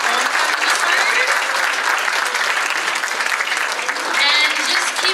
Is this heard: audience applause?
yes